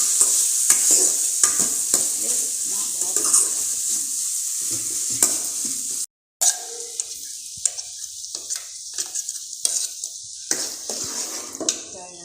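Steady sizzling in a hot pan as potato kurma is sautéed with ground paste, a spoon scraping and stirring repeatedly, a brief silent gap midway, then more frying and stirring.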